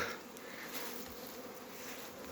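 Honey bees fly at an apiary on the edge of a village, a dense, steady buzzing hum of many insects, close and continuous, with no voices.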